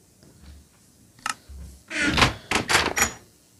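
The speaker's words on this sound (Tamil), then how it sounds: "மூஞ்சி முன்னாடி கதவு மூடுறான் பாரு." A villager in Minecraft shuts a wooden door with a short thunk, followed by a cluster of louder clattering knocks from the game, with no talking.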